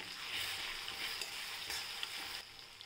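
Rice seasoned with salt and turmeric sautéing in a pan, a steady close sizzle with broadband frying hiss throughout and faint scrapes, easing slightly near the end, no voices.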